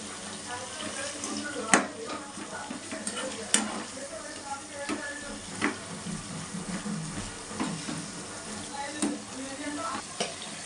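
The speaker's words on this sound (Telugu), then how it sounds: "క్యాప్సికమ్ ఒక 2 ఉన్నాయి, ఆ 2 ఇలా కర్రీకి చేసేస్తున్నాను." A capsicum paneer curry cooks in a pan with a steady, close simmering sizzle, broken by occasional sharp scraping stirs and clinks of a spoon against the pan.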